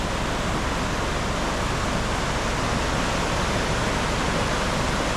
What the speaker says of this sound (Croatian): Ovo su bili neki bučni potok ulijeva.